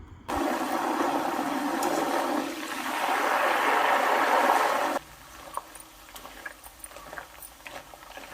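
Nendran banana chips frying in hot oil as salt water is added: a loud, sudden burst of roaring sizzle lasts several seconds, then cuts down to a quieter, crackling fry close by, with no talking.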